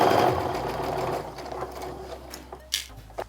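A sewing machine stitches a quilt seam, running with a steady mechanical whir that fades toward the end, followed by a few small clicks and knocks.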